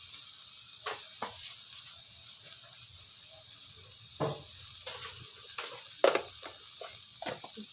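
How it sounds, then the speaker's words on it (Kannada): Cumin and fenugreek seeds frying in a pan give a faint, steady sizzle broken by soft clicks and scrapes of stirring, quiet and close with no talk. "ಜೀರಿಗೆ ಹುರಿದು ಮತ್ತೆ ಹಾಕ್ತೇನೆ."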